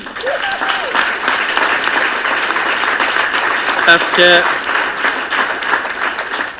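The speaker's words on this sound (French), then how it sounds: "J'aimerais quand même que vous donniez une bonne main d'applaudissement à Darly." At a hospitality-school employment event, an audience gives a warm round of applause, a steady wash of many hands clapping throughout, with a brief tonal sound and voices mixed in.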